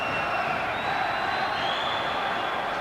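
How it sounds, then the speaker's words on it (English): Crowd cheering and roaring at a world championship boxing fight in a famous hall in Ireland, a steady, dense wash of noise from far off under faint commentary. "as the cheering begins to ring out in this famous hall"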